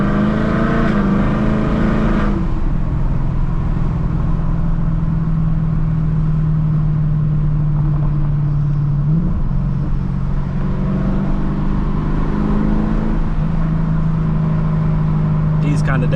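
A Lexus LC 500 V8 rumbles steadily from inside the cabin, its engine note shifting pitch as the car changes gear, with a brief rev change partway through.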